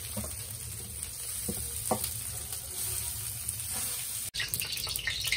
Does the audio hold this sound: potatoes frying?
yes